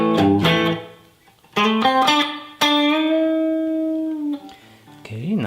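An electric guitar played through a Head Rush pedalboard with reverb: a few plucked phrases and sustained notes ring out and decay, with gaps between them, loud and close.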